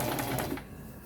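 A sewing machine stitching a regular seam on old denim jeans, a brief close whirring run that stops after about half a second.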